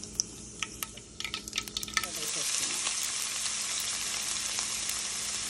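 Mustard seeds hitting hot oil for a tamarind curry base: a few sharp pops and crackles at first, then a dense, steady sizzle swells and holds, close and alone.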